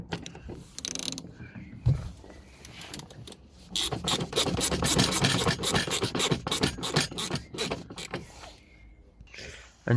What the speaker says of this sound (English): I've managed to put both screws in